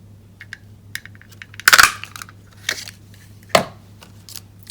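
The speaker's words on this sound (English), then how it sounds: "So our wishful white piece is going to be cut out or punched out with the 1-inch circle." A 1-inch circle punch snaps through paper, making one loud, sharp crunch followed by a second click a moment later, with light handling taps and a steady low hum beneath.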